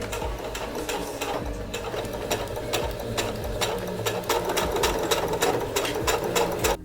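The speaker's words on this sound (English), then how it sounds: "Now time to sew it up." A sewing machine runs steadily up close, its needle clattering in a fast, even rhythm as it stitches a thrifted dress, with the motor hum speeding up slightly toward the end.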